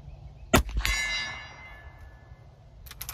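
A bullet from a Marlin 1894 rifle in 45 Colt strikes a steel target at about 80 yards with one sharp clang and a ringing tail. Fainter knocks follow at the end, and no one speaks.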